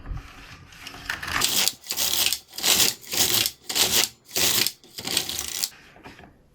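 The carriage of an LK150 knitting machine is pushed back and forth across rows of waste yarn, giving about seven rhythmic swishing, clacking passes close by with short pauses between strokes.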